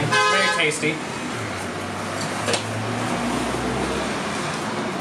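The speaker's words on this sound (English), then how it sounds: "If you can hear the honking behind me, we got a pretty busy road." A short car horn toot sounds near the start over steady busy-road traffic roar in Concón, Chile, then someone speaks briefly as the road noise continues.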